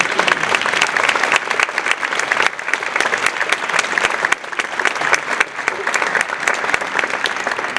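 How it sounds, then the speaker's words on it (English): Sustained applause from a sizable crowd at an honor society induction, dense and even clapping for several seconds with no pause. "Round of applause."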